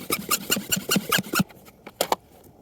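Steel wire brush scrubbing the inside of a drilled bolt hole in rock, a run of quick rasping strokes, then a few sharp puffs from a pump-action Hilti blower clearing dust, close and with no talk.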